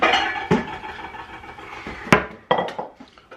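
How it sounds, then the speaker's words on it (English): Pieces of homemade beef jerky tipped off dehydrator sticks into a bowl, giving a cluttered run of clattering, clinking knocks with a few sharper hits, close and fairly loud. "So if I empty it all into one, actually put it into the bowl."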